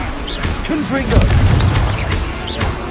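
Blasting Confringo spell explosions in the Hogwarts Legacy video game, several loud booming bursts layered over busy game effects and music, heard up close.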